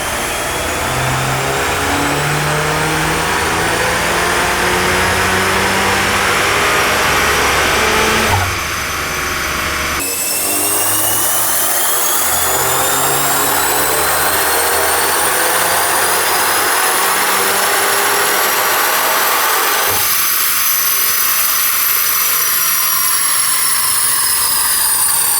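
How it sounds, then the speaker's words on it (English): A VW Golf R MK8 running a Stage 1+ Unitronic tune roars through a dyno pull, its engine note climbing steadily in pitch with two brief gear-change breaks, loud and continuous with no talk. "We're about ready to get started with this next dyno pull."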